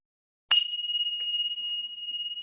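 A single meditation bell is struck once, sharp and clear, then rings on with a long, pure, slowly fading tone in near silence.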